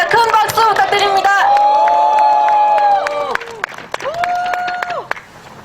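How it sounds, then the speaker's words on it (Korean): Crowd applause at an evening candlelight rally in Gyeongju calling for a president's resignation, with steady clapping mixed with loud sustained cheering voices and whoops that rise and fall across the crowd. "큰 박수 부탁드립니다."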